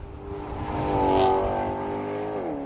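A Maserati GranTurismo MC Sportline's V8 engine revs and pulls through the mid-range, rising in pitch to a peak and then easing back to a steady drone, close and fairly loud.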